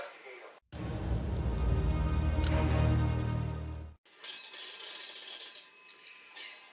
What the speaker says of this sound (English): I honestly was not expecting the ringer on that phone to be that shrill